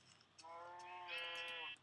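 Sheep in the video game Minecraft giving a single drawn-out bleat, close and clear, lasting over a second against near silence.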